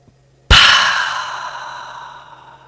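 One long, loud exhale from a deep breathing exercise, starting suddenly after near silence and trailing off slowly, close to the microphone with no speech.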